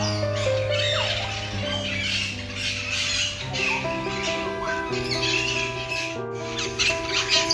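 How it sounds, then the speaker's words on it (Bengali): Grey parrots calling in an enclosure at Alipur zoo in Kolkata, with repeated squawks and whistled calls over steady background noise throughout. "এগুলো গ্রে প্যারট।"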